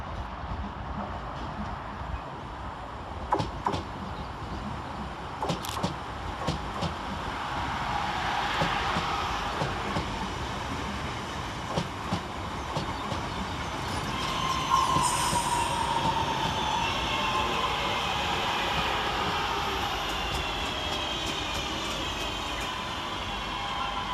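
A West Midlands Railway Cross City train, a class 323 electric multiple unit pair, arrives at Aston station, with rumbling wheels, clicking rail joints and squealing brakes building as it pulls in close, and no talking.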